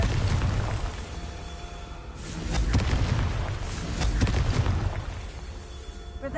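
A Confringo blasting spell bursts in Hogwarts Legacy, a fantasy video game: deep, rolling booms and rumbling blasts swell and fade over a steady low roar, fairly quiet overall.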